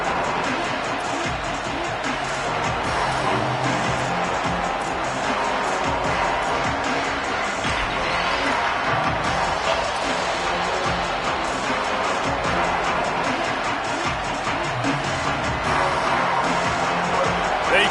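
A football stadium crowd roars steadily and loudly throughout, a dense wash of cheering and noise with no breaks.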